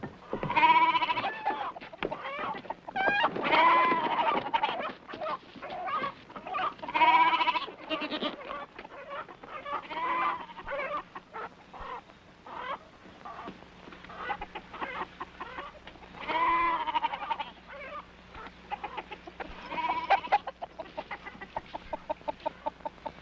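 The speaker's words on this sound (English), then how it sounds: "what set off those goats and chickens?" Goats bleat and chickens cluck in an agitated farmyard chorus, with repeated loud bleats and clucking throughout, fading somewhat in the middle and then picking up again.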